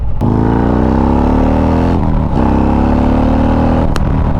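Stage 4 Harley-Davidson motorcycle, built to over 160 horsepower at the rear wheel, revving hard through gears up close, loud rising engine roar with brief dips at shifts.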